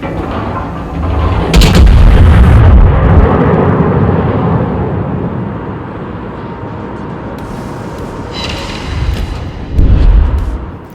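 In a naval video game, the Mackensen, a Tier 6 German battlecruiser, fires a main gun salvo: heavy booming blasts up close, followed by a rumbling decay and a second cluster of booms near the end.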